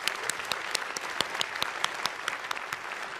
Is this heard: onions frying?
no